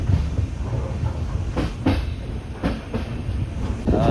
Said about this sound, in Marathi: आपण ट्रेनने जातो आहे काणकोण स्टेशनला